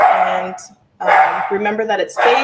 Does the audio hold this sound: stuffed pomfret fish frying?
no